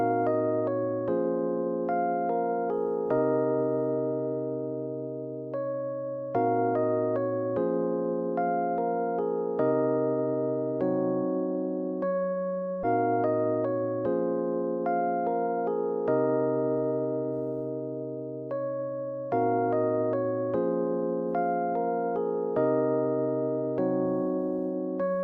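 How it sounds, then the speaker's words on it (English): A Lounge Lizard electric piano plays soulful neo-soul chords, two basic chords with melodies on top. The warm sustained voicings repeat in a slow, looping progression, steady and clean, with no voices. "I started with the electric piano from Lounge Lizard"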